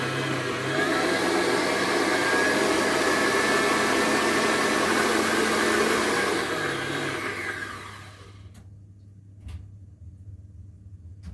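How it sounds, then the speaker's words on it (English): An electric mixer creaming cake batter for a red velvet cake, a loud steady whirring drone for most of the stretch that drops off near the end, leaving a quiet room with a few faint knocks. "Now let's go cream the batter for 4 minutes, and then we'll be back."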